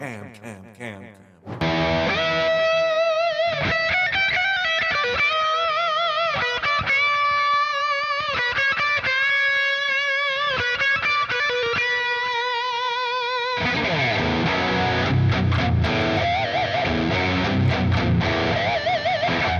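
Electric guitar, a Gibson Les Paul Studio Session, played through effects, with sustained distorted chords and bright harmonic notes ringing steadily, then a thicker, noisier strummed passage near the end.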